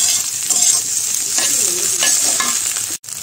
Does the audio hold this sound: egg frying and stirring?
yes